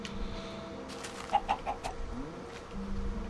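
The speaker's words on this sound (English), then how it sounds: "Oh, chicken!" A few quick chicken clucks from Minecraft, moderately loud over a steady game background hum.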